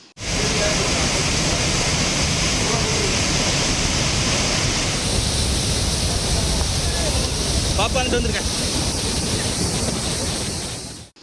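Courtallam's main waterfall in flood, water spilling over its safety arch, thunders as a loud, steady roar throughout, close and dense.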